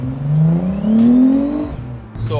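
An Audi S4 B5 with a rebuilt engine and healthier turbos runs smoothly on the road, its engine note rising and falling as it accelerates, loud and close with some whirring.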